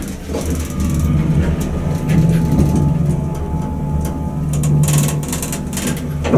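An Otis hydraulic elevator at Lockview Plaza in Lockport, NY runs with a steady, loud mechanical hum and low rumble. Scattered clicks and light rattles come through, with no voices.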